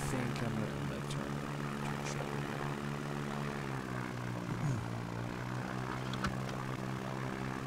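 A propeller airplane engine drones steadily during a short-takeoff-and-landing flight at Valdez in X-Plane 11, a constant, even hum with slight pitch shifts throughout.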